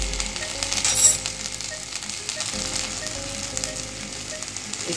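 Black chickpeas fry in a pan with a steady, moderately loud sizzle that carries through alone without a pause.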